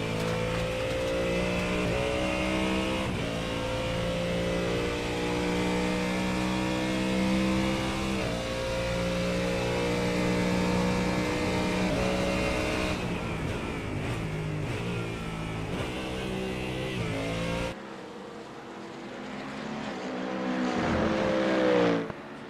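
Race cars drive behind the safety car at Monza, several engines droning together in a steady layered hum with shifting pitch and occasional revs, loud and close, before the sound thins and then swells again near the end.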